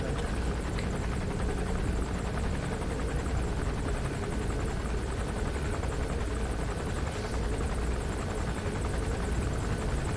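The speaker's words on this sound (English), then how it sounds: "As long as I stay still, that chopper will not attack." A helicopter hovers in the video game Metal Gear Solid V: The Phantom Pain, its rotor chop a steady, moderately loud drone that holds unchanged throughout.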